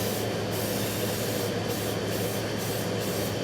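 Spray can laying clear coat onto a motorcycle gas tank, a continuous close hissing spray with no pauses for the full few seconds.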